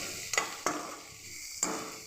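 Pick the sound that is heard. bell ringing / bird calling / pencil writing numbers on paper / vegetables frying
vegetables frying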